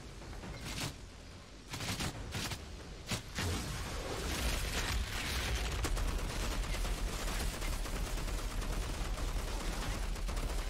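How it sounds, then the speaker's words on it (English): Sustained gunfire in the looter-shooter Outriders, with several sharp early bursts giving way to dense, continuous shooting and impacts that stay loud and close for the remainder. "Shooting, don't stop."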